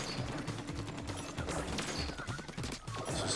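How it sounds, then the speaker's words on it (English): Quick repeated splattering shots of an ink gun in Splatoon 2 fire during jumps, a busy rattling stream over game effects, fairly quiet overall. "Just keep jumping and shooting."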